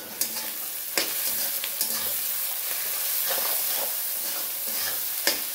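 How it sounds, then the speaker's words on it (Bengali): Sliced onions sizzle and fry with a generous pinch of salt in a pan for a chicken and potato kosha, with a spoon scraping and stirring through them in several distinct strokes over a steady close-up crackle. "চলো পেঁয়াজটা কিন্তু আমার ভাজা হয়ে গেছে,"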